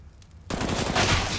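Burst of rapid automatic gunfire in a Counter-Strike match, starting abruptly after a brief near-silent moment and continuing dense and loud to the end.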